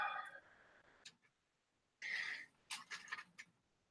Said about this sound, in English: she's literally inside a paper sack and rattling it around.